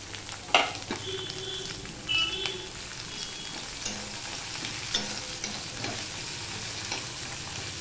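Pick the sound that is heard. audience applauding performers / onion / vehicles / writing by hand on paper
onion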